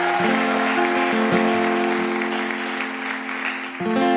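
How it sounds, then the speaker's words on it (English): An audience applauds Deborah Frances-White at a live show. The clapping is heard as a broad wash under loud, sustained musical chords that shift a few times. "Please give her a massive round of applause."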